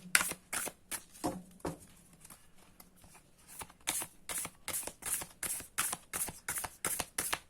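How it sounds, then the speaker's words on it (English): Tarot cards from a Moonology deck are shuffled in a quiet room, giving a run of short, crisp riffling bursts that turn quicker and more regular in the second half, close and fairly loud. "This is the last shuffle."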